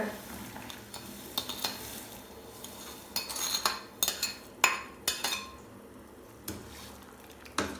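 A spoon stirs rosella syrup with sugar in a cooking pot, giving irregular clinks and scrapes against the metal over a low simmering hiss, close and moderately loud.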